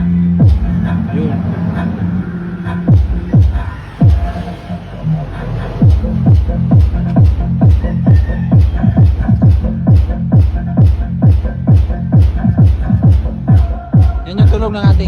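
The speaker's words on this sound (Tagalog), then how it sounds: "Yan yung tunog ng ating sub" A subwoofer driven by a powered amplifier in a home sound setup pounds out loud, booming bass thumps in a steady repeating beat. A few voices are heard briefly near the start, before the thumping fills the room.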